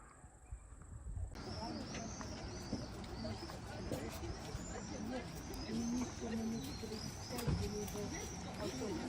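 Pigeons coo in repeated low soft calls over a steady background of outdoor noise and traffic, fairly distant, with other faint bird chirps; wing flapping is not clearly distinct.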